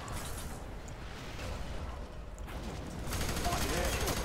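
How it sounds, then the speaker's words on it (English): Bursts of gunfire in F.E.A.R. 3, a muffled rattle of shots that swells louder near the end, with a voice talking in the background. "I'm getting shot by things and I can't eat."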